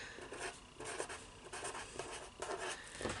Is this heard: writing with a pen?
yes